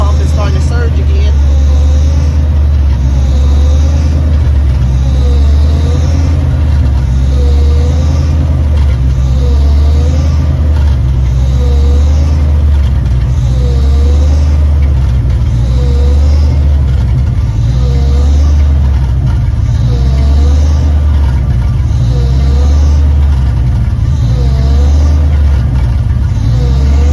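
A Ford Maverick engine runs with a surging fuel pump, a loud, close, steady drone that swells and eases in a regular rhythm about every two seconds through the whole stretch.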